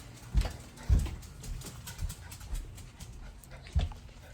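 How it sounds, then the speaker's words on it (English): Big dogs pant and huff close by in rapid, breathy bursts, with a few heavier thuds mixed in, loud at moments and then softer. "Big scary dogs."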